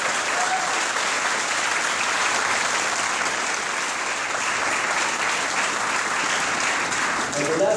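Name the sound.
audience applause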